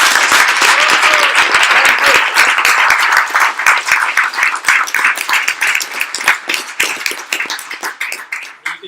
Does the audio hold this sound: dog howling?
no